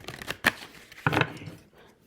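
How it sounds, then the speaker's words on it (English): A deck of cards riffled in a ruffle shuffle, giving two short crisp bursts of flapping card noise close up, separated by a brief pause, with no talk. "Let me get all the cards and give them a good ruffle shuffle."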